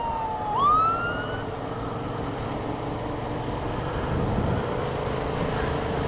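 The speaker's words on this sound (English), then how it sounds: "It's like constant sirens." Emergency vehicle sirens wail in a rising sweep over steady city traffic rumble, fading into a constant background drone.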